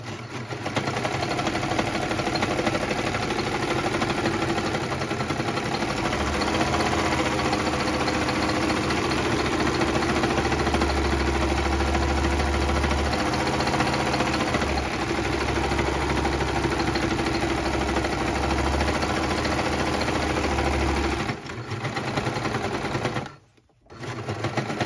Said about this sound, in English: I'm just going to start sewing around, and I will just turn my fabric and cut that corner off there.